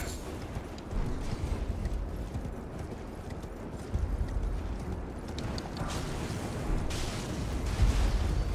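Horse hooves clop steadily while riding across terrain in the Elden Ring Shadow of the Erdtree game, a dense continuous patter of footfalls under broadband ambient game noise, no talk.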